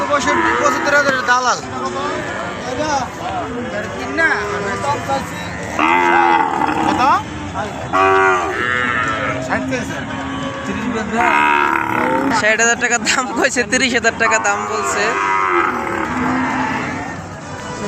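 Dairy cows moo repeatedly at a busy cattle market, several drawn-out calls near and far overlapping one another, while people talk and haggle over prices throughout.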